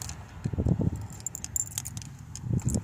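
Faint metallic jingling and clicking of a car key working into the rear door child lock of a Fiat Panda II, in short bursts at the start and again at the end.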